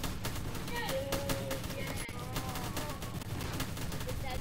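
Tower gunfire in the Roblox game Tower Battles crackles as rapid, dense bursts of shots layered over game music and effects, steady throughout at moderate level.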